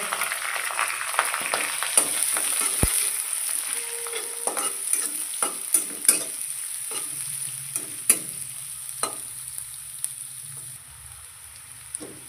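Onions and green chillies frying in a pan, with a continuous soft sizzle under irregular clicks and scrapes of stirring, close by, and no voices.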